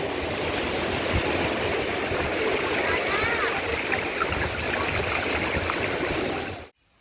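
Sea water washes back over the sand at Puri beach, a loud, steady rushing hiss of surf that runs unbroken for several seconds before cutting off abruptly.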